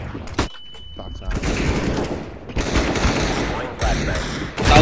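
Gunfire in the game CS:GO during a competitive match, sharp bursts of rapid automatic shots broken by brief gaps, loud and near, with people talking over it.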